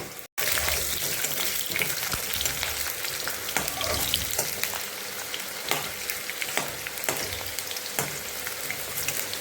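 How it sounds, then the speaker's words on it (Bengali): Mutton fries in hot oil with a constant close sizzle, scattered spits and crackles, and occasional stirring scrapes. No one speaks. "অনেক সময় ধরে ভাজতে হবে মটনটা। তেল ছেটবে, যত সময় তেল ফুটবে ছেটবে তত সময় পর্যন্ত ভাজা করে নেব।"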